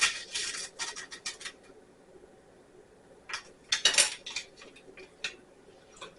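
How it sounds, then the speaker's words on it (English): Utensil stirring Knox gelatin mixture in a bowl while making Thanksgiving food, giving light clinks and scraping in short bursts, quiet and near with pauses between. "we need to stir this up until it's mixed well"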